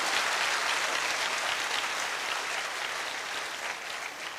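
An audience at a distributors' event claps together, a dense, sustained round of applause that holds steady and tapers slightly at the close.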